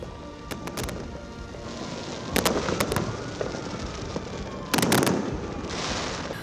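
New Year fireworks crackle and burst in the distance in Iloilo, Philippines, in scattered clusters over a constant rumbling background of outdoor noise.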